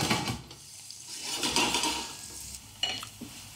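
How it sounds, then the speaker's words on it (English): Sliced onions sauté in a GreenPan pan, a soft sizzle beneath clinks and scrapes of a utensil stirring against the pan, with a couple of sharper knocks near the end. "Okay, so we're going to let that saute a bit, and then we're going to throw in the tomato."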